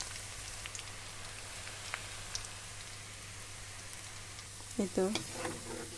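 Garlic sizzles steadily in hot oil for a pickle, a soft continuous crackle with a brief louder burst of stirring or tones near the end, with no talking.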